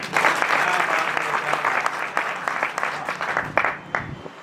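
Audience applause at a Hindi poetry recital (kavi sammelan) in Sabalgarh, a dense, sustained burst of many hands clapping that carries steadily through and thins slightly toward the end.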